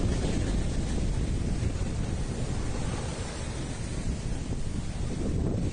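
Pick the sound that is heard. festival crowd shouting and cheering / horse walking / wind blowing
wind blowing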